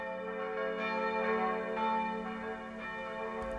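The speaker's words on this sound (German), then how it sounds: "Der Sonntag beginnt wie jeder Sonntag mit lautem Geläute der Kirchturmglocken von Werder." Church tower bells in Werder ring out together, layered sustained tones swelling and overlapping in a steady peal, heard from a moderate distance with no voices.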